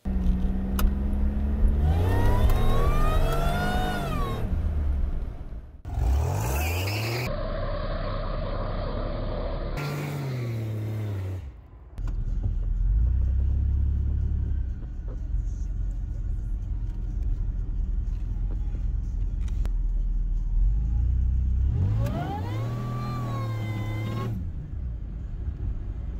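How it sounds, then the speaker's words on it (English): A supercharged 3800 Pontiac Fiero on a test drive, its engine rumbling close and loud with several rising acceleration runs and gear changes between steady cruising stretches. "Now let's take the Fiero out for another test drive and see if we have found our lost boost."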